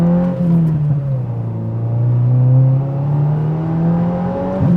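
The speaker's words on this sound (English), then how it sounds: "whenever I do a hard shift from second to third, you get some nice, just 2 or 3 little really aggressive pops" A 2024 Subaru WRX with an aftermarket axle-back exhaust accelerates hard, its engine note rising in pitch as a loud, close, throaty drone with a strong low-end rumble through the run.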